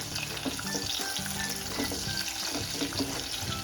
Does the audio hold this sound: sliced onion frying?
yes